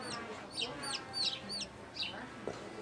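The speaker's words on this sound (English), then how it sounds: "Lots of chickens around." Several chickens cluck and chirp in short repeated bursts around a residential backyard in San Mateo, fairly close and moderately loud over a low background hum.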